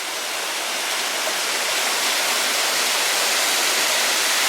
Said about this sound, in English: We have a pretty waterfall right here in front of us.